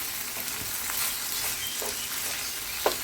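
Shrimp stir-fry in plenty of hot oil, sending up a dense, steady sizzle that stays loud and close throughout, broken by a few soft scrapes of stirring and one brief clack near the end, with no talk.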